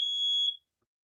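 A smoke alarm gives a single loud, piercing, steady electronic beep of about half a second. The beep cuts off into silence.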